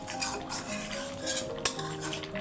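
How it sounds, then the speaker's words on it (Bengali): Eggs and potatoes cooking in a pot, heard as steady clinks and scrapes of a utensil against the pot with one sharper knock, close by over a constant background hum. "ডিম রান্না করছি পাঁচটা ডিম দিয়ে আলু দিয়ে"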